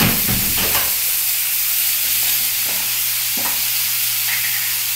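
Potatoes fry in a little oil with cauliflower and other vegetables, a loud steady sizzle and hiss up close, with a few scraping stirs early on.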